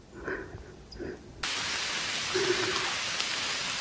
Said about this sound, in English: It's like pouring rain.